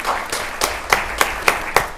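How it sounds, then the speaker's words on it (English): A short round of clapping at a county board of commissioners work session, with distinct, fairly loud claps falling in a steady rhythm and no talk over them. "Let's give them a round of applause tonight."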